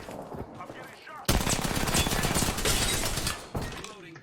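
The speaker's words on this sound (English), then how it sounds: "Firing. Taking fire. I'm getting shot." Rapid automatic gunfire in a Team Fortress–style shooter, a dense loud burst of overlapping shots lasting a couple of seconds, then a brief drop and a second shorter volley.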